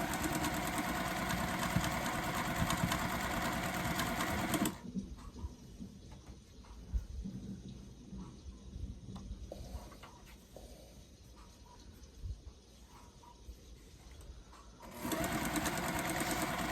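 A sewing machine stitches quilt blocks, running loud and steady at the start, pausing for about ten seconds of quieter handling noise, then whirring again at the end.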